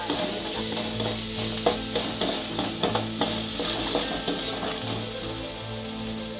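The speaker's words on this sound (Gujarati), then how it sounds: "આપણે લીમડાના પાન નાખીશું. આને શેરવી લઈશું." Curry leaves and chopped chillies sizzling in hot oil and being stirred for masala dosa bites, with a dense steady crackle and repeated spoon scrapes against the pan, near and continuous.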